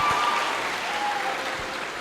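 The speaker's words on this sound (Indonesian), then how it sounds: "Mari kita tepuk tangan" Applause from the audience at a public lecture on strengthening human rights, a steady wash of clapping that holds through the two seconds at an even moderate level.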